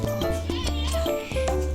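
A cat meows a few times in Sakura School Simulator, the cries clear and close over steady tonal game music.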